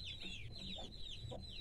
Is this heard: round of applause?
no